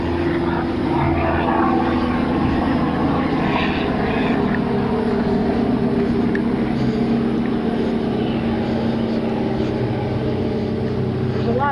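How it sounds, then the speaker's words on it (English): Small propeller planes flying near a little airport, a steady low droning engine hum that stays constant and fairly distant, heard outdoors without speech. "There's a lot of small planes over here because we're not that far from Maritime Airport."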